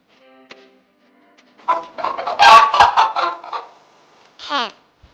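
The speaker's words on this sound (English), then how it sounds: "Hen." Hen clucking on a farm, a run of loud, close, busy clucks lasting a couple of seconds, then a short higher squawk after a brief pause.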